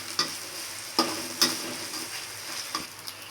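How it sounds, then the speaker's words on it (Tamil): Water spinach sautés in hot oil under a constant sizzle, with four or five sharp scraping stirs of the spatula against the pan, close and clear. "கொஞ்சம் நல்லா வதக்கிப்போம், அந்த பச்சை வடை போகிற வரைக்கும் கொஞ்சம் நல்லா வதக்கிப்போம்."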